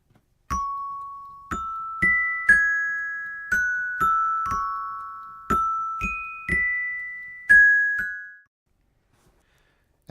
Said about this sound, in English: And the end result is a nice stereo bell effect.